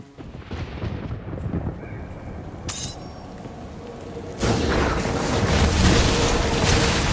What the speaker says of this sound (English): Turn the storm away from our home.